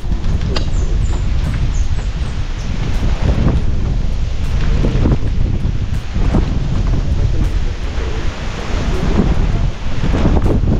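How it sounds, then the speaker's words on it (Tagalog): Strong outdoor wind buffets the microphone in a continuous, loud roar with gusty swells and rumbling low end throughout. "Lakas ng hangin ah."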